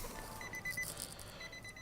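The rear sonar parking sensor in a 2015 Nissan Titan SV pickup gives three short electronic beeps in quick succession, faint against a quiet cabin background.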